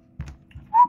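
A person whistles a short single note as a clue in a word-guessing game, heard briefly near the end after a few faint taps and soft sounds.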